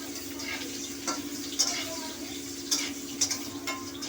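Potatoes stirred in a pan for a home-style Bengali parshe fish curry, a steady low sizzle with a few distinct scraping and clinking strokes of the spatula.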